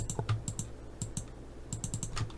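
Keys on a computer keyboard, including Shift, are pressed during 3D modelling work in Maya. A quick run of light plastic clicks sounds close and fairly soft, with no voice.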